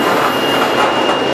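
A freight train rolls along the tracks on an open Wyoming line, heard up close from aboard as a dense, steady roar with a faint high whine, continuous and without talk.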